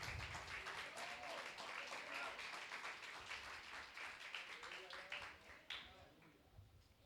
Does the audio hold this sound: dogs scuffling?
no